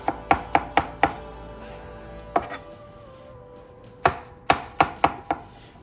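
A knife chops mushrooms in half on a cutting board. Crisp, close knocks come in a quick run of five, then a lone strike, a pause, and another rapid burst of five.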